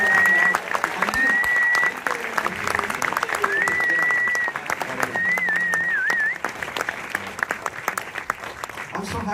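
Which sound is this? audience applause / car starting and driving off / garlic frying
audience applause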